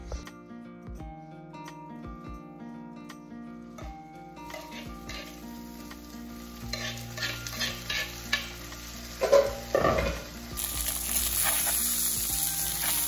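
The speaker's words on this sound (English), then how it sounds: "I'm gonna take a cup and just start smashing them." Beans sizzle in a frying pan under background music, with repeated scraping and pressing thuds as they are mashed against the pan with a cup.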